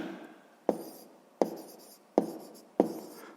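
Pen strokes writing out a sixth-grade maths solution on paper: four sharp taps or clicks at roughly even intervals, each followed by a short scratchy trail of writing, close and fairly quiet, with no voices.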